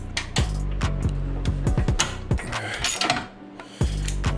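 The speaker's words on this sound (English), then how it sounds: "I'm gonna just tighten up all these brackets for you." Bumper brackets on a Civic are tightened during a battery relocation, with rapid ratcheting bursts from a power tool or wrench. Several loud rattling runs are broken by short pauses, close up.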